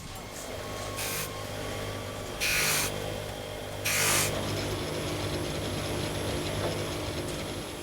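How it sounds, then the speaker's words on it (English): A jeweller's polishing motor works over a ring for its final high shine, giving a steady mechanical whir with a low hum throughout and three short, louder bursts of brushing contact, with no talking. "I think it's time to use the polishing motor to do the final stages of polish."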